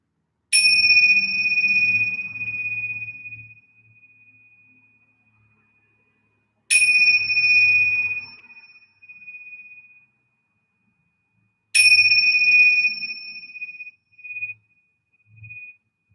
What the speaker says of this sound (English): So with the chimes of the bells, you're welcome at this point to slowly shift out